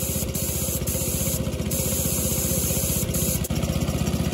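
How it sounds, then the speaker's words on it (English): A steady, loud hissing spray of water from the exhaust of a 26 hp Briggs V-twin Intek engine runs continuously over a low rumbling engine drone, with brief bursts of stronger spray. "Water coming out of the exhaust now."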